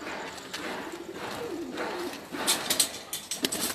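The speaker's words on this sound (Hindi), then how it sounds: "मोतियों वाला सियालकोटी कबूतर है" Sialkoti pigeons, including a pearl-marked bird, coo on a rooftop in a steady series of soft, low, rolling calls, with a few brighter flutters and knocks near the end.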